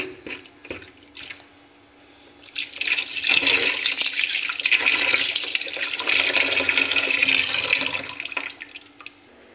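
Fish roe being rinsed in warm water in a home kitchen, a steady running, splashing wash that swells after a quiet start and carries on loudly to the end.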